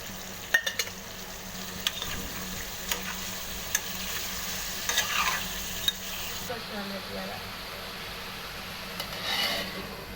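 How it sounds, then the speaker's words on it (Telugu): Mutton pieces fry with salt in a pan beside fried onions, a soft continuous sizzle at moderate distance with occasional sharp clicks of a utensil being stirred, fairly quiet throughout. "ఇలా మటన్ వేసిన తర్వాత కొంచెం సాల్ట్ వేసి కలుపుకుందాము"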